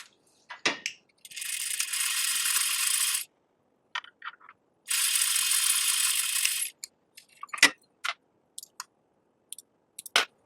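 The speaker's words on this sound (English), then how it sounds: "sew the length of the fabric swatches at a 1/4 inch seam allowance" A sewing machine stitches a plain quarter-inch seam along fabric swatches in two steady bursts of about two seconds each, with small clicks and handling taps of the fabric before, between and after.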